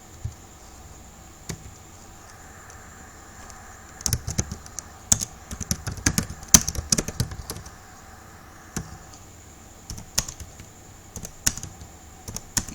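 Keys clatter on a computer keyboard in irregular quick bursts, quiet pauses between flurries of close, crisp clicks over a faint steady hum.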